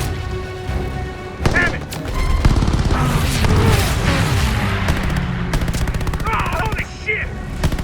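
Loud, dense aircraft machine-gun fire in a Call of Duty Battle of Midway air-to-air dogfight, rapid bursts and booms over roaring engines, with someone shouting excitedly over the din.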